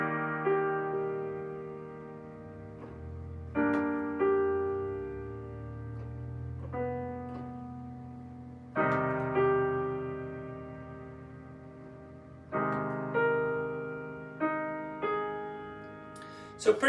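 Strings play a simple melody of chord tones over sustained string chords, entering in swelling phrases that recur every couple of seconds, fairly quiet and unaccompanied by talk.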